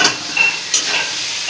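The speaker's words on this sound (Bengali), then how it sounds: "এবার আমি ফুলকপি আলু সব একসঙ্গে দিয়ে দিলাম। এবার ভালো করে একসঙ্গে কষে নেব।" Cauliflower and potato pieces are stir-fried together in hot oil, giving a steady close sizzle with a few brief scraping bursts from stirring.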